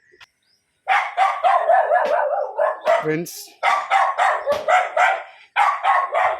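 A dog barks nearby in loud, rapid bursts, volley after volley with only short pauses between them, while a voice is briefly heard under the barking.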